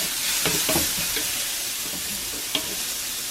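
Garlic frying in a cast iron pan, a close, steady sizzle with a few stirring scrapes early on and a sharp tap later, no voices.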